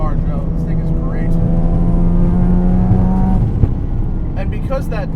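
A modified 400+ horsepower Mazda RX-7 FD rotary engine under way, a loud droning engine note climbing steadily in pitch, then easing off with a brief pop, with people talking over it.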